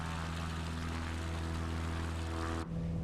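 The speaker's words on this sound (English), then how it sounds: "My shiny chrome plane here." Shiny chrome propeller plane with a nitrous system in a flight video game, a steady loud droning engine hum that keeps an even pitch throughout.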